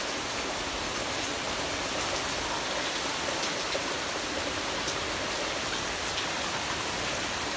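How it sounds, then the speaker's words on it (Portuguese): Heavy rain pours down outside a house in windy weather, a dense, even roar of drops that stays steady throughout with no voices. "tá caindo uma chuva bem forte aqui de novo."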